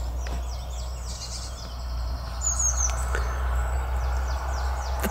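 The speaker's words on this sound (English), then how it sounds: "The birds are singing" Birds chirp and sing on a summer morning in short repeated bursts over a steady low background hum, fairly faint and somewhat distant.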